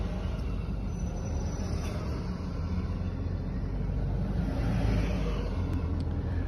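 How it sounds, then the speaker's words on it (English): Buses rolling past on a road, a steady broad rumble of heavy engines and tyres that swells slightly toward the end, with no speech over it. "Look at all these buses."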